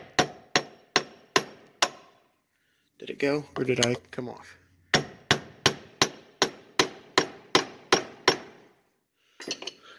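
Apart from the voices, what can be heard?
hammer and screwdriver banging John Deere steering shaft loose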